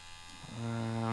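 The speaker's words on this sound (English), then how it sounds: "You can definitely hear the machine slowing down a little bit." Bronc Tough wireless stroke-adjustable tattoo pen running at a 4 mm stroke, a steady electric hum that rises and settles into a strong, even drone partway through, close and alone.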